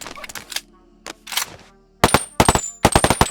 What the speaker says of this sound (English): when it comes to the actual gunshots, that sounds phenomenal.